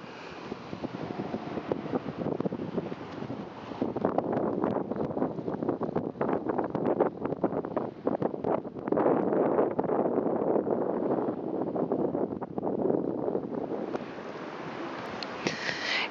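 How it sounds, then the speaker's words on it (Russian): Wind moves through the high crowns of tall trees in an open park, a steady rushing roar that swells and fades, with gusty buffeting against the microphone and no speech. "Вот он шумит в высоких, в кронах высоких деревьев."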